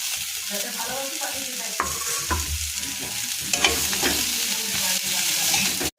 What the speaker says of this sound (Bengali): এবার ফুলকপি গ্রেটটা দিয়ে দেবো, সঙ্গে ধনে পাতাটাও